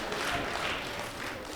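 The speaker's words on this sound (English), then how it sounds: "Sound like the supervisors clapping" Supervisors in an audience at a plenary conference session clapping, a brief continuous patter of applause at moderate distance.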